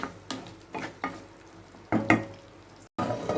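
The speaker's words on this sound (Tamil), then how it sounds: "அந்த மசாலாவில் பாவக்காய் நல்லா மிக்ஸ் ஆகட்டும்" A spoon stirs bitter gourd into masala frying in a pan, giving several scraping strokes over a steady sizzle, close and clear with no talk.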